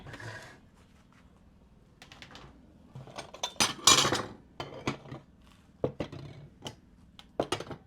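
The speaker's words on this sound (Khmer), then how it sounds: "ខ្ញុំរើចានយកទៅទុក" Dishes, plates and cutlery are picked up and put away in a home kitchen, giving a string of sharp clinks, clatters and knocks in irregular bursts, close and fairly quiet.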